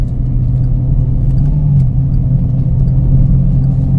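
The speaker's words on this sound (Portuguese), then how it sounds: "Vou fazer uma ultrapassagem aqui." A car engine hums with a steady, loud low rumble from inside the vehicle during an overtake on a road, with a slight rise in pitch partway through and no talking.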